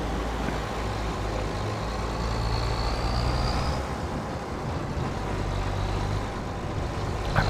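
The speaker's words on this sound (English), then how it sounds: "Traffic." Road traffic in Farming Simulator 25 on PS5, a continuous low engine rumble of vehicles driving along a town road, loud and steady with no talk.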